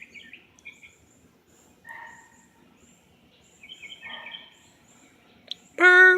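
Birds call in short, scattered chirps and whistles in a quiet outdoor setting at a bird-watching spot, with a louder, harsher call bursting close at the end.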